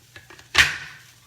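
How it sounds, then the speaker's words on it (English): Zucchini sliced on a Quick Slice slicer: faint light taps, then one sharp, close chopping thud that fades quickly. "And then all my zucchini is sliced up."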